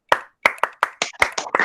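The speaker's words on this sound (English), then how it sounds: "Let us all give a school clap for Kashish." A group does a school clap, sharp claps in a rhythmic pattern: two spaced beats, then a quicker run of several claps, close and loud in a quiet room.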